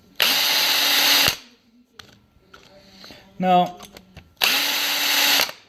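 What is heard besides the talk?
drill boring holes in a knife blank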